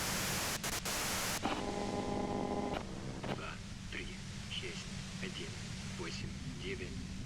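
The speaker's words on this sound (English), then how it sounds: "you can do it through the white noise" Broadband white-noise static from the video game Disco Elysium fills the clip, a loud steady hiss with a brief burst of bright tones near the start and faint chirps scattered over the wash.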